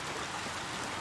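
Rain falls steadily in the Little Nightmares 2 game, a dense, even hiss of drops with no pauses or voices.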